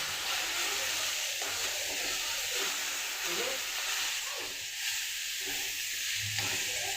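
Onion, tomato and spice masala hisses and sizzles in a pan while a spoon scrapes and stirs in bursts, a steady close frying sound with no voice.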